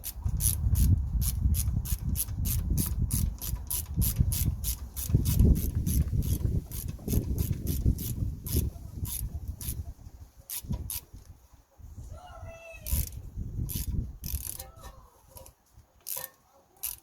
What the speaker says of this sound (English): Just gonna fit two 13mm bolts.